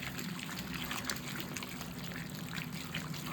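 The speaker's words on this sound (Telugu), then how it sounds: "చింతపండు పులుసు చింతపండు నీళ్ళు వేసుకున్నాక ఇప్పుడు ప్లెయిన్ వాటర్ వేసుకోవాలండి" Tamarind water trickles and splashes into a pot of Guntur-style fish curry, a soft continuous pour at close range.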